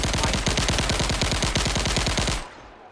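Rapid automatic gunfire from shooting in an Unreal Engine 5 game demo, a dense steady burst of loud shots lasting over two seconds before cutting off abruptly into silence.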